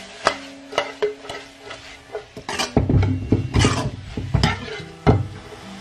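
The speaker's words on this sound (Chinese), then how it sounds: "再次的把它们翻炒在一起" A spatula scrapes and clatters irregularly against a wok as shredded potatoes are tossed with salt, chicken powder and sesame oil over a soft, continuous sizzle, close and fairly loud.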